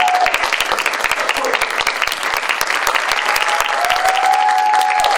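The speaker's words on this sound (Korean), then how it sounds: "북한 전통악기 소해금을 연주해 주실 최리나 연주자님을 여러분들 큰 박수로 맞이해 주십시오" Loud, steady applause fills a concert hall as an audience welcomes a performer of the sohaegeum, a North Korean traditional bowed string instrument, at a university event in Pohang; the clapping continues throughout without a break.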